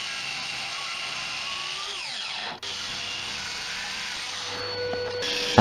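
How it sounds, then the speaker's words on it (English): Power saw cutting spalted beech slabs to rough size, a steady high whine running throughout with a brief dip midway and a slight rise near the end, close and loud with no talk. "breaking them down to rough size using a circular saw"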